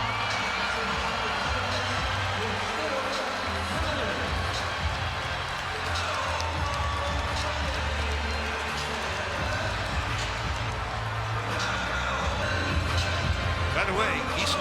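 Basketball arena crowd roaring for Bam Adebayo as he leaves the game, a steady loud wash of cheering and noise with a commentator talking over it.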